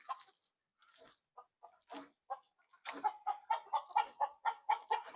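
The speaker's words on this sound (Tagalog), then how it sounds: "Takot yung manok." A frightened chicken clucks close by, starting with scattered squawks and then settling into a quick, rhythmic run of agitated clucks.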